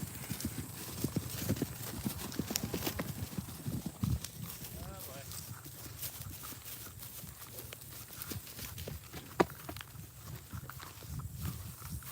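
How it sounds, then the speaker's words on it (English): Horses on a cattle drive approach with steady clip-clopping hooves, a busy rhythmic clatter over the first seconds that eases into scattered steps, with a faint whinny and people talking in the background. "Here come the horses."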